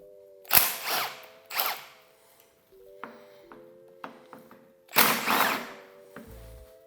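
Ratchet clicks and metallic pings come from loosening bolts on a Honda CB350 engine during bottom end teardown, heard in several short bursts of nearby clatter with gaps between them.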